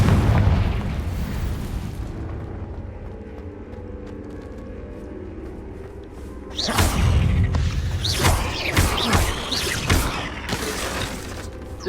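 Confringo fire spell blasts in the Hogwarts Legacy video game: a loud sustained rumble, then a cluster of sharp explosive bursts and crackles in rapid succession.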